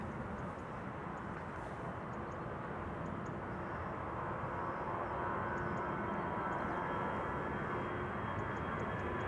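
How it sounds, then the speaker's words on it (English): Narrow-body airliners taking off at Amsterdam Schiphol Airport produce a faint, distant, continuous engine rumble that stays even and unbroken, with no voices over it. "More narrow bodies in the meantime taking off here."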